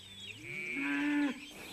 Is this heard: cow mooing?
yes